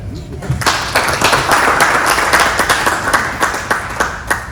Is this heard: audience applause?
yes